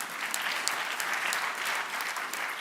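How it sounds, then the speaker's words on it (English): An audience at a conference claps steadily for a city official announcing falling unemployment. The even, moderately loud applause runs through the whole moment without a break. "yeah, you can clap."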